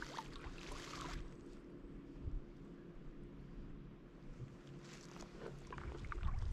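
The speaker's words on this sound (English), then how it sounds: "It's a bit about all these power boats going up and down." Power boat engines drone and swell over a Scottish sea loch, Loch Goil, a steady low hum with a louder passing surge near the start and again toward the end, no voices.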